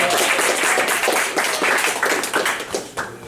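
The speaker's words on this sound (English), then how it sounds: "let's give them a round of applause." A crowd claps warmly at an MFA reading held in a contemporary art gallery, a dense, steady burst of applause with no one speaking over it.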